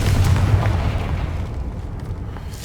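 A Confringo fire spell explodes in the video game Hogwarts Legacy with a loud, deep booming blast. A heavy low rumble holds for a couple of seconds, then slowly fades. No voices are heard.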